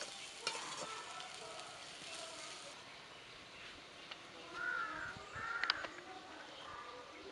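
Potatoes fry in oil in a pan during home cooking, giving a soft, steady sizzle with a few stirring scrapes and occasional crow caws far in the background.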